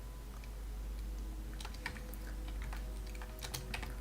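Quick typing on a computer keyboard while entering a list into a notepad for a D&D character, with scattered key clicks that come in bursts over a steady low hum and no talking.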